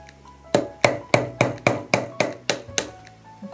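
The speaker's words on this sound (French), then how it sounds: "on va percer avec un petit clou des trous" Hammer blows drive a small nail through cardboard, about nine sharp, evenly spaced taps close up, each with a short ringing decay, with no voice over them.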